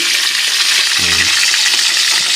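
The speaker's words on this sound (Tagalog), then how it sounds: "At nagpiprito ako ng tilapia." Steady, loud sizzling of tilapia frying in hot oil, with a brief clink partway through.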